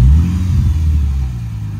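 Lexus RC350 engine with the exhaust cut off past the axle, a loud, raw low rumble revving up at the start and then settling into a steady growl that fades slightly toward the end.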